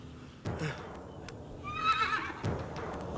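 A horse whinnies loudly in a rising, quavering neigh, accompanied by sharp hoof clops and thumps nearby.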